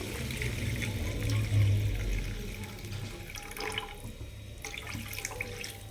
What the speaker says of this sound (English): after that I'm gonna put the water inside